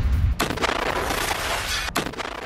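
Gunfire during a Hamas attack on IDF forces in Gaza: a dense, continuous burst of crackling shots at moderate distance, broken by a brief pause before firing resumes.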